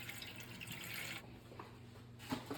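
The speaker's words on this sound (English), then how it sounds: "you need to put about an inch of water in a pan" Water is poured into a baking pan to make a water bath for a cheesecake: a faint, continuous trickle with small splashes and drips, no talking.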